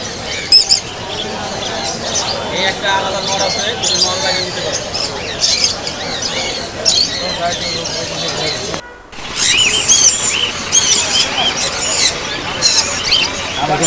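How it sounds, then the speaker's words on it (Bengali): Many birds, yellow lovebirds among them, chirp and squawk at a large bird market in Mirpur, Dhaka, with dense overlapping calls, a brief drop near the end, and people talking throughout. "লাভবাইট পাখি দুগুলো হলুদ কালার খুব সুন্দর লাগছে"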